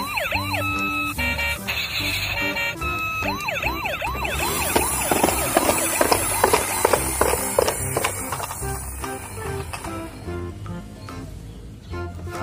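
A toy police patrol car siren wails in repeated rising and falling sweeps, loud and close, layered with electronic tones and beeps from the toy.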